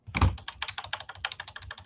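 Quick, uneven keystrokes clatter on a computer keyboard close by, about twenty crisp clicks in under two seconds with no talking.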